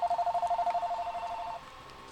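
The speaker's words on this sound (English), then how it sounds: "My phone ringing." A telephone rings indoors, a rapid, regular electronic trill pulsing for about a second and a half before cutting off, moderately loud against a quiet background.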